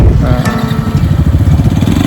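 A motorcycle engine rumbles close and loud in a parking area near Torana Fort, with a steady pulsing low throb and some clatter throughout.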